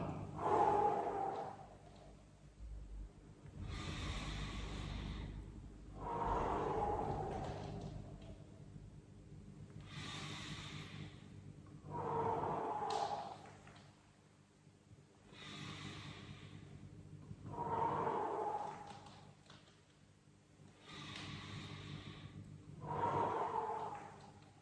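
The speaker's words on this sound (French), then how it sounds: "J'inspire, je repars." Slow, deep breaths during a Tibetan gymnastics routine, each long inhale and exhale rising and fading in a calm repeating cycle, close to the microphone and unhurried, with no talking over them.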